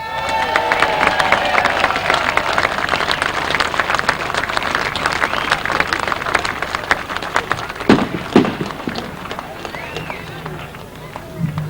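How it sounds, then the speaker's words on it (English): A crowd at a grasstrack motorcycle racing event applauds and cheers, dense clapping and whoops sustained throughout, with a couple of louder bursts near the end and voices mixed in. "You're all going to give a very big round of applause."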